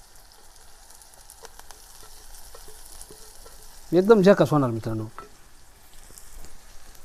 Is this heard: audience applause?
no